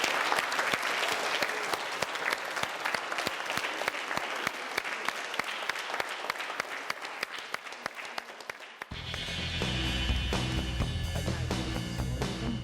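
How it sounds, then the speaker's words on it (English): School audience gives a big, lively round of applause, dense and continuous for several seconds before music abruptly takes over. "I just want you to give them a big round of applause for taking part in that."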